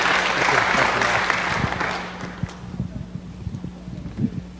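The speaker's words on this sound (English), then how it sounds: "let's give them another big round of applause" Audience applause at a city council meeting for a group of children, loud clapping that fades after about two seconds into sparse claps and rustling with a low hum.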